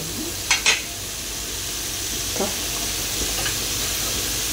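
Three green chillies fry in a pan, giving a continuous hiss of sizzling oil, with two quick clinks near the start and a soft scrape of stirring midway, close and with nobody speaking.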